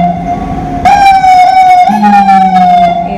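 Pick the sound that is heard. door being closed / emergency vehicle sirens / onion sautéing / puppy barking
emergency vehicle sirens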